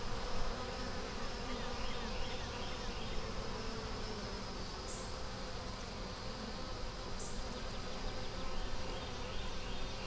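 Honey bees at an open hive frame holding nectar, pollen and eggs make a dense, continuous buzzing hum that fills the whole stretch, steady and close, with no voices.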